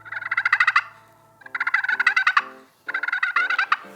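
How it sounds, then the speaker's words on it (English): A friction turkey call, its peg dragged slowly across the surface, makes a purring, clucking sound: three bursts of rapid, rattling, bird-like chatter close up, separated by short pauses. "to make a purr or a cluck sound, again, the peg straight up and down, tip it away from you, and then just slowly drag it across the surface"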